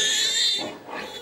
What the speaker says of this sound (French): Les cris des cochons plus l'odeur, Tony est choqué